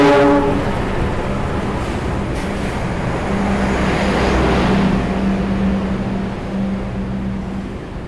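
An Argo Cirebon executive train rolls into platform 4 at an Indonesian station, a steady rumbling rush of wheels and carriages with a drawn-out horn-like tone through the middle and end, loud and close, with no one talking.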